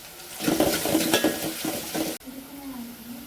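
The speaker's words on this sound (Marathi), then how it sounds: "आता ते टाकून घेणार आहे आपण आणि त्याला पण छान परतून घ्यायचं आहे" Ginger-garlic paste sautéed with fried onions for a spicy toor dal tadka, a busy sizzling fry with scraping stirs that cuts off abruptly, followed by a softer steady hiss with faint background tone.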